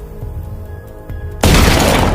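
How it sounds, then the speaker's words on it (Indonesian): A shotgun blast bursts a door open in a haunted-house horror film: quiet, tense ambience with faint thuds, then one sudden, loud, broadband blast whose roar carries on to the end. "tiba-tiba pintu itu meledak karena terdapat shotgun di balik pintu itu"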